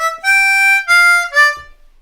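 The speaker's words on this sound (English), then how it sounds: "So the second lick is basically just a variation on the first lick" A C harmonica plays the second blues lick from a blues tune as three clean, loud, sustained notes, with the last two shorter. The final note fades into silence.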